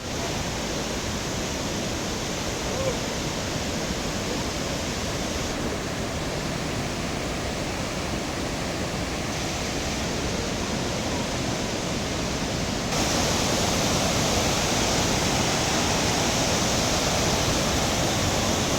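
Vazhachal waterfall near Athirapally: a dense, unbroken roar of falling water, loud and steady throughout, growing slightly louder in the final few seconds, with no voices.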